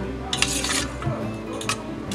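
Marinated paneer being mixed by hand in a bowl, giving soft, close squelching and clinking against the bowl in a couple of short bursts with quieter gaps, no talking.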